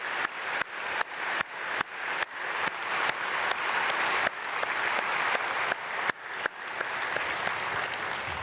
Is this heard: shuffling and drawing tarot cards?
no